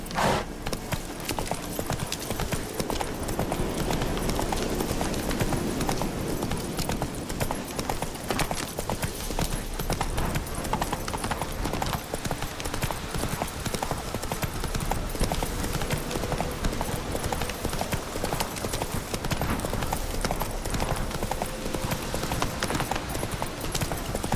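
Geralt's horse Roach in The Witcher 3 clip-clops along in a steady, continuous hoofbeat rhythm that stays close and prominent throughout, with a soft game ambience behind it.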